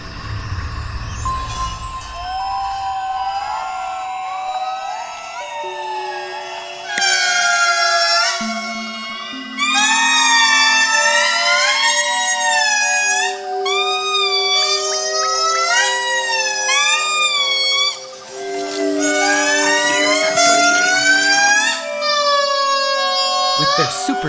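Loud, wailing siren-like calls from several indris in Madagascar overlap in long rising and falling glides, continuous and resonant, joining in waves for the whole stretch.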